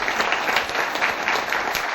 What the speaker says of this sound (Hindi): आप एक बार जोरदार धमाकेदार तालियां बजाएं।